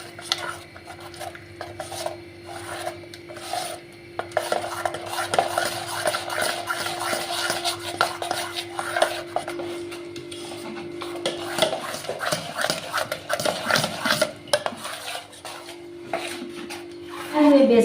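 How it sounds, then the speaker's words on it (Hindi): A spoon works gram flour (besan) batter in a bowl, giving steady scraping and rubbing strokes with occasional clinks against the bowl, close and fairly loud, with a faint background hum. "इसके बाद थोड़ा सा और धीरे धीरे बेसन को पूरी तरह से मिक्स कर लूँगी।"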